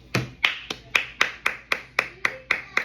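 A single person's hands clap eleven times in a steady, even rhythm, each sharp clap close and clear with a short ring after it, with no other sound between.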